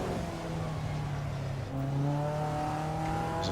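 A race car engine in the Assetto Corsa EVO driving game drones steadily at high revs, dips briefly, then climbs again in pitch as it accelerates, loud and continuous with no talking.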